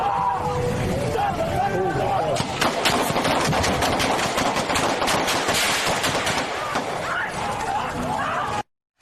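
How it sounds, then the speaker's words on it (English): Gunfire is aimed at the back of a U-Haul truck as it backs toward a Coast Guard base barrier line. Rapid shots ring out in a dense, chaotic burst over engine noise and background commotion, then the sound cuts off. "Shots ring out as rounds hit the back of the vehicle, forcing it to stop outside of the barrier line."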